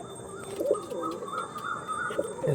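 Pigeons offered for sale coo softly nearby in low, rolling bursts, with light chirps and rustling around them and no speech.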